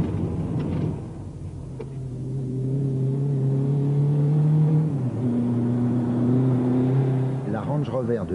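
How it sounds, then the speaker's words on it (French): A Range Rover labours on a rough desert track during the 1980 Dakar rally, its engine revving and straining in a steady drone that rises and shifts pitch, with voices talking over it. "Range Rover de FR3 en difficulté."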